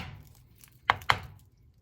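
A knife cuts through a medium-sized sweet white onion on a board, giving two sharp, close chops about a fifth of a second apart amid quiet room tone.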